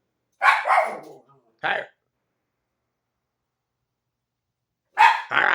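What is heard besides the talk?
dog barking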